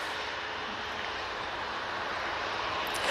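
A Qatar Airways airliner landing at Manchester Airport, its engines a steady, broad roar held at an even level throughout and rising slightly at the very end, heard from a distance without talk.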